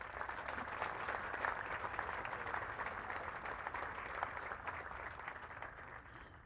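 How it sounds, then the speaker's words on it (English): Audience applauding awardees at a military Advance Camp graduation ceremony, steady dense clapping from a crowd at moderate level, sustained and tapering slightly at the end. "please join me in giving our awardees a round of applause"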